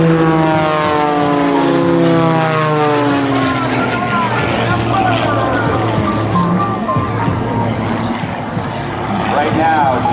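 Propeller aerobatic plane flying at an air show, a loud buzzing engine drone whose pitch sweeps up and down as it maneuvers overhead, with an announcer talking over it.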